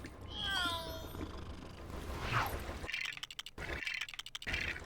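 A cartoon cat in the Lego Harry Potter video game gives several clear rising-and-falling meows up close, followed by a brief rustle and a quick run of sharp clicky game sound effects.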